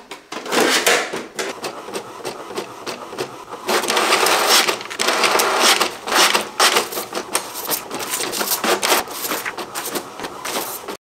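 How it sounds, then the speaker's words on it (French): A home printer runs off a batch of enlarged photo prints for an art-school diploma project, its clattering feed and print-head passes steady and close, rising in louder bursts throughout. "je vais imprimer tout ça"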